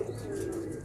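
A high-flying pigeon held in the hand gives a short, soft, low coo over a steady faint background hum.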